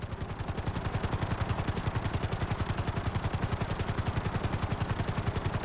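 Helicopter in a video game flying at full speed, a loud, steady rapid rotor chop with fast, even thumping pulses and a constant whining hiss, with no voices.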